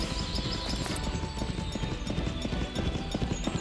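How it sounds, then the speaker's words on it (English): Horse hooves clip-clop in a steady rapid trotting rhythm in a video game, close and fairly loud over a bed of ambient game sound, with no talk. "Where is the horse?"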